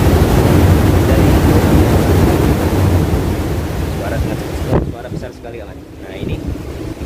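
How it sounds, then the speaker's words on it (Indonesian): At a seaside wind cave on Watu Lepek beach, strong wind roars loudly against the microphone alongside crashing surf, then briefly drops away before gusting again. "ombaknya sangat besar sekali sehingga menghasilkan angin sangat besar"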